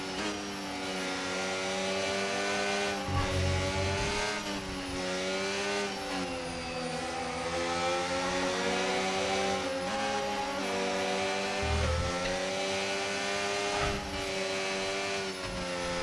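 An F1 car in the F1 25 racing game drives a lap, its engine whining steadily at high revs with repeated rises and dips as gears shift and the car brakes and accelerates, loud and continuous with no talk.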